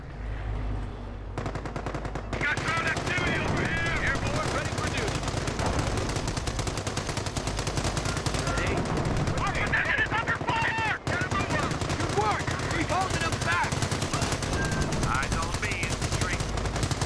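Sustained machine gun fire rattles almost without pause in the Company of Heroes wartime strategy game, with scattered bursts, distant gunshots and battle noise layered over the soundtrack; a voice speaks briefly amid the combat.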